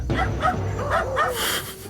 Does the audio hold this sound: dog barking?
yes